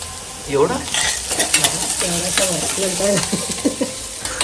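Onion sautéing in a pan with a continuous sizzle and stirring scrapes, while someone talks over it throughout.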